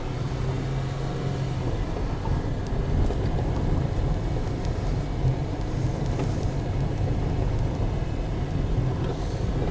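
A VW LT31 tow truck drives over wet grass, its engine giving a steady, close rumble with a low droning hum throughout, and faint rattles sit on top of the motor noise.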